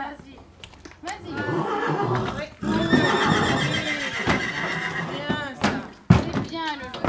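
Rescue-shelter horses whinny and neigh repeatedly while being moved to a new home, with loud close calls, a few thuds and hoof clops, and people talking around them.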